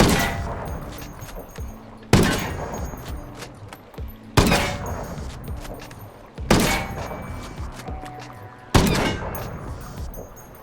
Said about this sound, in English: I'm just going to press the fire button and see where this lands and how high the recoil goes